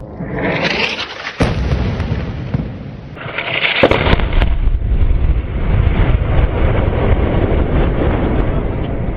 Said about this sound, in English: The enemy thought they could hide in the rubble, but that rubble was disappearing, one 500-pound bomb at a time.